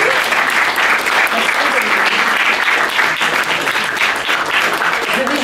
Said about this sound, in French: On va applaudir, mais très fort, Dominique Mailly.